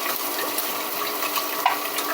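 Cold tap water running to rinse freshly cooked pasta in a kitchen sink, a steady, close splashing rush that continues without pause.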